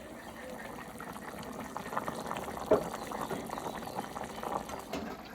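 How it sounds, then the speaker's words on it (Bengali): A steady bubbling rumble of water boiling in a pot before fish is added, continuous and moderately loud, with a brief clink partway through. "জলটা ফুটে গেছে এবার মাছগুলো দিয়ে দেবো"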